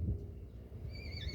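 A horse at a vaquejada, a rodeo-style cattle-throwing event, lets out a short rising whinny over low rumbling background noise, brief and moderately distant.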